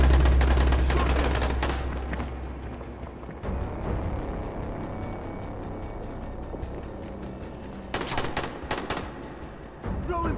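Gunshots ring out in the zombie game Dying Light, a close burst of rapid automatic fire at the start, then a quieter stretch before another short volley near the end.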